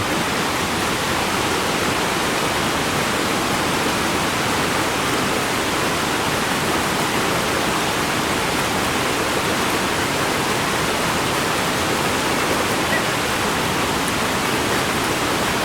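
A waterfall in Iguazu National Park, Argentina, heard from the upper trail, gives a dense, steady roar of falling water that stays loud and unbroken throughout with no other sounds.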